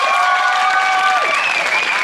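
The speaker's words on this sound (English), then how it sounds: "They clapped." A studio audience claps steadily throughout, a dense wash of applause with light cheering mixed in, loud and close, lasting a couple of seconds.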